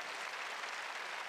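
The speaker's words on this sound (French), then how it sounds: "nous allons ensemble applaudir nos deux joueurs qui ont réalisé un magnifique parcours" Audience applause for the two tennis finalists at a Challenger tournament final ceremony in Rennes, a steady, even wash of many hands clapping throughout with no voices above it.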